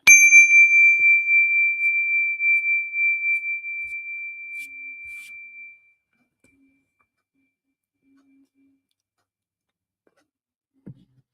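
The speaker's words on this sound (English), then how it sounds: "When you detect the vibration of my bell" A single struck meditation bell rings out with a clear, pure tone that shimmers and slowly fades over about six seconds, followed by near silence and a faint click at the end.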